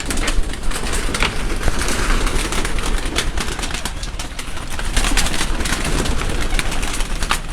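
Flying pigeons kept on a rooftop in Karachi coo continuously, many birds overlapping in a dense, loud murmur of throaty calls with fluttering and scattered clicks, close by and without talk.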